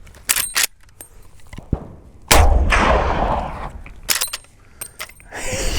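A Marlin 1895 SBL lever-action rifle in .45-70 firing outdoors, one loud sharp blast rolling into a long rumbling decay, with brief clicks and clatter of handling before and after.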